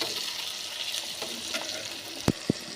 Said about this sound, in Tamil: கீழே இருக்கிறது காயெல்லாம் மேலே வர மாதிரி கிளறி விட்டுக்கோங்க